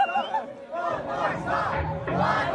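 A concert crowd cheers and sings loudly, a dense roar of many voices rising in waves across the clip.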